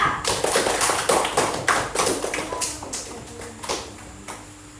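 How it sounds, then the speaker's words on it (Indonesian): A small classroom group applauds a presenting team, with a quick burst of close, dense claps that thins out and fades over a few seconds. "mari kita beri aplaus dulu untuk kelompok 2"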